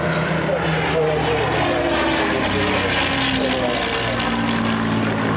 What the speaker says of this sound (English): Shame the camera can only follow one airplane,